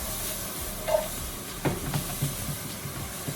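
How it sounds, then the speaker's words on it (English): Vegetables stir-fried in a pan with a little pink salt, a soft steady sizzle with occasional scraping stirs and light clinks, fairly quiet and without talk. "I'll stir fry this for about a minute"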